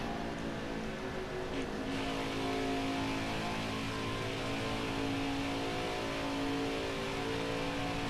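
A NASCAR race car engine roars steadily on a qualifying lap at Pocono in NASCAR Heat 5, one loud continuous drone with a shifting pitch and no talk.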